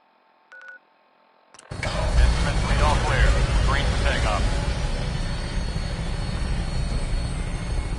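An aircraft engine in Fallout 4 roars up for takeoff after a brief electronic beep, then holds a loud, sustained rumbling drone while voices talk over it.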